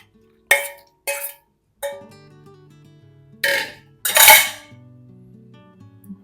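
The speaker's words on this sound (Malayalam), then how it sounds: "ഈ കണവ ഇങ്ങോട്ട് ഇട്ട് കൊടുക്കാം" Pieces of squid are dropped into a bowl while a squid roast is being prepared. Several crisp metallic clinks and clatters land at irregular intervals, close and clear, with short ringing tails and no talking.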